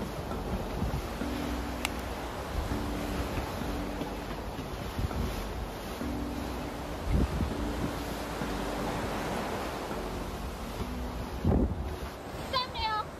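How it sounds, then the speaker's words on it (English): Wind and waves aboard a sailboat at sea en route to Martinique near Saint Lucia, a constant rushing roar of wind and surf with bursts of spray, and people talking over it. "There's the wind we were expecting."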